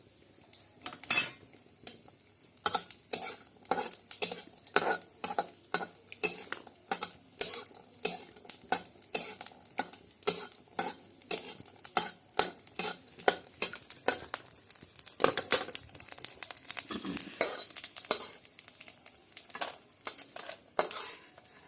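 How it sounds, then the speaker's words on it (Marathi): A utensil stirs coconut roasting in a little oil and clinks against the pan in a fast, steady run of close metallic taps with a faint sizzle underneath, with no voices. "खोबरं भाजायला आपण थोडंसं तेल टाकलेलं आहे"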